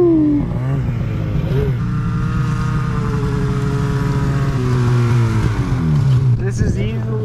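A snowmobile runs loud and close through backcountry snow in British Columbia, its engine droning with rising and falling pitch as the throttle shifts, one brief revving swell near the end.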